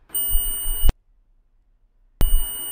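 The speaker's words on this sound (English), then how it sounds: "So you can hear a beep, which means these points are connected." Two loud electronic beeps from a multimeter continuity test, each about three quarters of a second, separated by a long silent gap; a steady high-pitched tone with sharp starts and stops.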